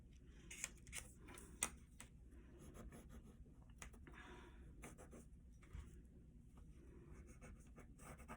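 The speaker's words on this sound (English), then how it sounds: "trace the maple leaf onto the paper" Pencil tracing a maple leaf outline onto orange paper, a soft continuous scratching of writing strokes with a few sharper taps, faint and close.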